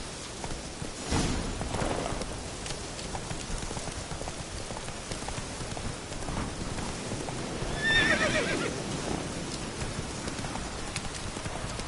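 Witcher 3 horse Roach whinnies and trots with clip-clopping hooves over steady rain-like ambience, a louder neigh rising near the end; no talking.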